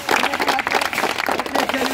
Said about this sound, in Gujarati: સંતોષભાઈ માટે પણ ભાઈ બહુ જોરથી તાળી વગાડો ભાઈ